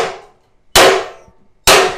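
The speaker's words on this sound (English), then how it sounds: "This hammer's made for wood, not metal." A wood-made hammer strikes metal in two sharp, loud impacts about a second apart, each ringing briefly before fading, close up with no talk.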